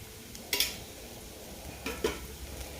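Oil sizzling in a pan next to fried onion while making a village-style brinjal bharit, a soft steady crackle with two pairs of brief clinks of a spoon against the pan.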